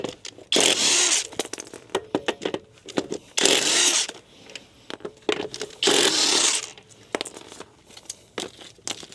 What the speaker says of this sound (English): That is the beauty of a good, powerful torque wrench.